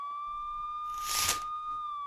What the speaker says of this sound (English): That sounds like sirens to me.